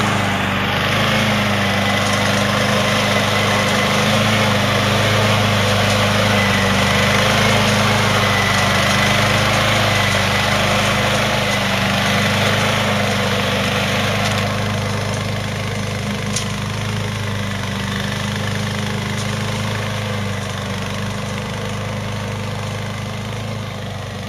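A brand-new 22T machine's engine runs steadily on its first drive across flat ground, a loud, constant mid-pitched drone with a persistent whine and no talk.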